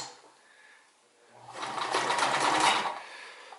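A Sears Kenmore 158 series sewing machine stitches a buttonhole in one short run, rising from near silence to a steady mechanical whir with a fast needle chatter, then fading out.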